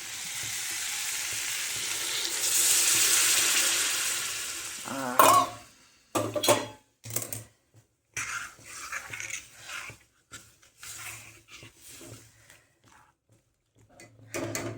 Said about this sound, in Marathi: गरमच पाणी टाकायचं पाणी टाकून घेऊया